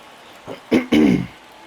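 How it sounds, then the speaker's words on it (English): A short, rough throat clearing in two quick bursts, close and distinct against a quiet background, over MLB The Show 23 baseball gameplay. "I feel like I'm sitting here, like, clearing my throat quite often so far in this ball game"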